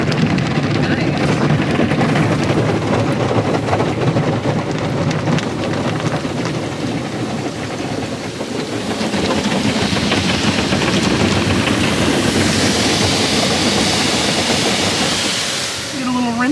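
An automatic car wash sprays a rinse over a car, a loud, continuous hiss of heavy water pouring onto the body from close by, swelling and shifting as the spray moves along the vehicle.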